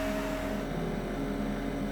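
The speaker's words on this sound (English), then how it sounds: "the fridge" A household fridge giving off a steady, low electrical hum with a faint mains buzz, continuous and even in level throughout, with no voices present.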